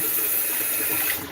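Hot water running steadily from a kitchen tap into a sink while meat is washed, a loud close continuous gush that eases slightly at the end.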